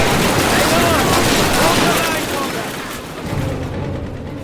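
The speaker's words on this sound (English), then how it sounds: "The gunfire is so loud that you can barely hear the music underneath." Heavy gunfire and machine-gun bursts from Call of Duty, a continuous loud barrage of shots and booms that buries the background music, easing slightly toward the end.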